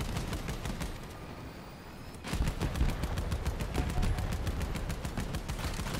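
Rapid bursts of automatic gunfire from the Gungnir rifle in a shooter video game, sharp repeated shots in a fast steady rhythm that pause briefly and then resume louder and denser.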